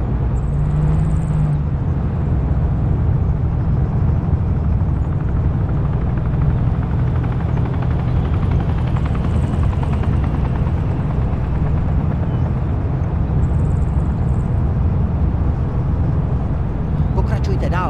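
A helicopter in the Operation Flashpoint video game remake runs with a loud, continuous rotor and engine drone that stays steady throughout, while faint tonal game sounds come and go on top.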